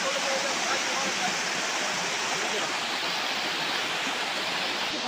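A waterfall roars in a constant, dense, broadband rush, loud and steady throughout with no pauses.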